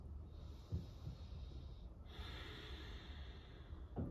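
Slow, soft breathing during a core-focused yoga flow: faint airy inhales and exhales with a couple of light nasal snorts in a quiet room.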